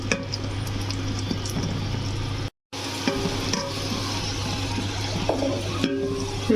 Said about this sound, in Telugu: ఈ రెండు బాగా ఫ్రై చేసుకోవాలి వీటిని ఇలా బాగా ఫ్రై చేసుకోవాలి